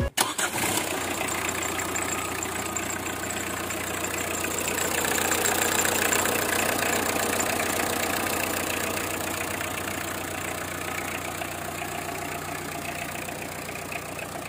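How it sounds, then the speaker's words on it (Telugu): A 2012 Tata Indica V2 car engine cranks and catches at the start, then settles into a steady, smooth idle that runs on close and loud throughout. "ఒకసారి ఇంజన్ కూడా స్టార్ట్ చేసి ఇంజన్ బీటింగ్ వినిపించే ప్రయత్నం చేస్తాం మీకు"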